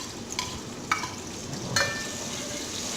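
Onions sizzle and fry in warmed oil in a pot, a steady close crackle with a few brief stirring scrapes and spikes, no voices.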